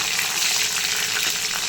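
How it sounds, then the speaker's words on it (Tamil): Crushed garlic cloves fry in hot oil for a fish curry, a steady, close, even sizzle with a bright hiss and no talking over it. "ஒரு 8 பல்லு பூண்டு தோல் உரித்து தட்டி வச்சுருக்கேன், அதையும் போட்டு லைட்டாக கோல்டன் ஃப்ரை வரட்டும்"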